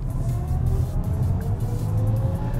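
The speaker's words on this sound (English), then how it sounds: "it gives you 10 seconds of all that the motors have to offer." BMW i7 electric car accelerating hard in boost mode, heard as a steady low drone from inside the cabin with a faint rising whine, continuous and fairly loud with no talk.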